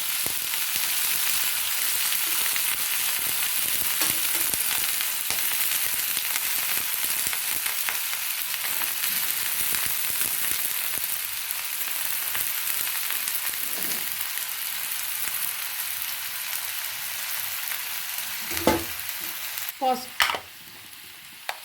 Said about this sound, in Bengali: এবার আমি এই সবজিটাকে তেলের মধ্যে দিয়ে দেবো